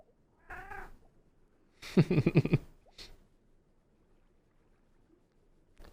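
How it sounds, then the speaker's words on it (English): Cat in the Minecraft game QSMP meowing in a few distinct bursts: a short mew, a longer wavering meow, then a brief chirp, clear and close against quiet background. "Can't wait for her to be my cat too."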